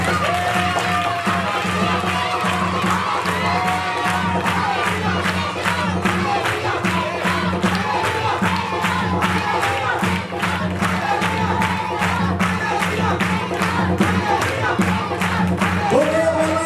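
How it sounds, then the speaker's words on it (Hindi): At a Christmas festival service in a church, the congregation bursts into loud applause and cheering for Jesus, with rhythmic clapping running under crowd shouts and voices for the whole stretch. "जोरदार तालियां"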